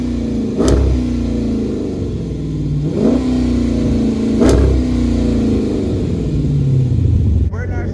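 Modded Dodge Charger engine revved hard three times in a row, each rev rising sharply then settling back to a loud, rumbling idle up close.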